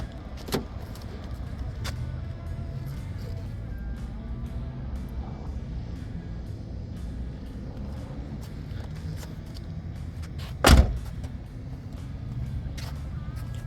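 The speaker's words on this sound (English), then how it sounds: "Doors open and close nicely." A 1994 Chevrolet Cavalier Z24 convertible door shuts with one solid, close thump over a steady low engine rumble, with a faint click earlier on.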